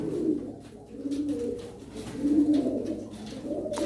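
Tumbler pigeons, a flock of Turkish flying birds, cooing close by in a low, rolling, continuous murmur with rising and falling swells and no talk.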